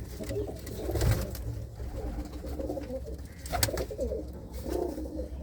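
Desi pigeons coo among larger pigeons in a loft, giving soft low rolling calls that repeat over a steady close background.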